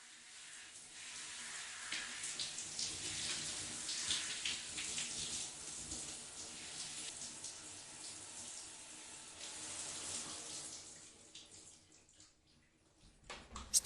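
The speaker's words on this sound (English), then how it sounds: "She then enters the shower" A shower runs in a bathroom stall as a woman washes under it, a steady close hiss of spraying water that holds for about ten seconds, then thins out and stops near the end.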